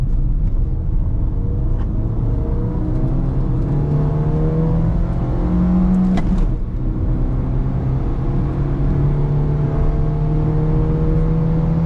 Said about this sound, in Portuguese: vamos dar um pezinho aqui de segunda marcha?